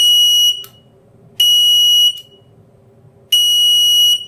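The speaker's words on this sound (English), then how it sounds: "buzzer should work now" A shrill buzzer on a smart water leak sensor beeps in three long bursts, each about half a second to a second, separated by pauses, close and loud over a faint hum.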